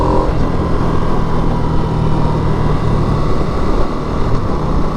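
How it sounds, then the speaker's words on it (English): A 2022 Harley-Davidson Sportster Nightster engine revving high while riding, a loud sustained roar with steady rumble and wind noise throughout. "when you get up in the RPMs on this bike and this motor, it definitely starts to feel like it wants to pull you off the seat"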